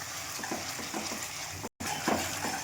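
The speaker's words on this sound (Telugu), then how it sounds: "దీనిలో పచ్చివాసన అంతా పోయే వరకు వేయించేసుకుందాం." Ginger-garlic paste fries in a pan for a fish curry, a steady sizzle with periodic scraping stirs, close and fairly loud, broken by one brief silent gap.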